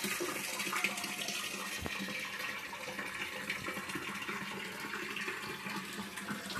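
Water current pours steadily from a hatching tank holding young native magur catfish fry, a continuous close rushing flow with no one talking.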